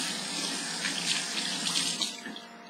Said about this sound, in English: So now I'm going to wet my hands